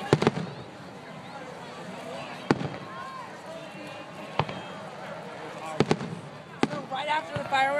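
Fireworks burst over Ocean Beach in a series of sharp, booming cracks spread irregularly through the clip, with whistling rising streaks between some bangs and crowd voices talking in the background.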